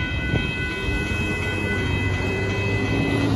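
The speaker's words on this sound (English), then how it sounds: "that's the Northbound Union Pacific mixed train" A northbound Union Pacific mixed freight train rolls past at Dittmar Road in Austin, Texas, close and loud, with steady rumbling wheels and rail noise throughout.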